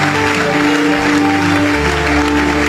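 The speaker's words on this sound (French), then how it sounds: "Acclamez l'Esprit de Dieu." A church congregation applauds in a steady, dense, continuous wash of clapping over a sustained musical drone, loud and close throughout.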